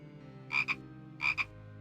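A frog croaks twice in the fantasy adventure game Simon the Sorcerer. Each croak is a clear double-pulsed call, spaced well apart over a soft background hum.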